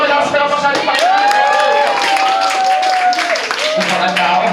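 A church congregation claps loudly, dense and sustained applause mixed with cheering and voices, while a sung or drawn-out voice rises over the crowd.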